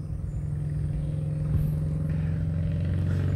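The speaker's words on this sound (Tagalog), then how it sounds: "May tunog po ng bangka" Boat engine on a river just beyond a fishpond, a steady low rumbling drone heard from some distance, fairly faint and continuous.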